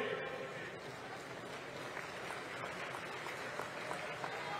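Crowd clapping at a farmers' and workers' conference rally in Balodabazar-Bhatapara, a steady wash of applause from a large gathering that keeps up evenly throughout, with voices mixed into the noise.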